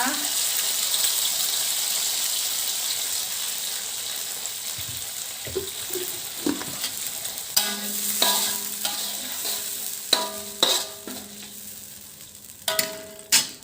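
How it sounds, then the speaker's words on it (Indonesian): Spice paste with bruised lemongrass stir-fried in a pan for coconut-dressed vegetable urap, a steady hissing sizzle with scraping spatula strokes and clinks of the utensil against the pan growing more frequent toward the end. "Jadi bumbu ini kita tumis sampai mengering ya ibu-ibu."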